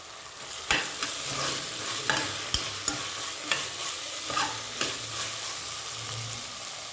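Grated coconut fries in a little oil for hotel-style upma, a steady close sizzle broken by regular sharp scrapes of a spoon stirring the pan, with no talking.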